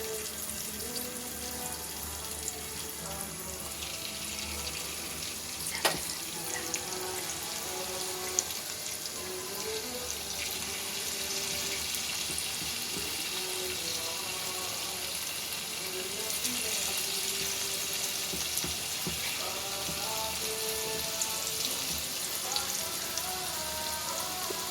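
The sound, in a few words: potato pakoras deep frying in hot oil in a kadai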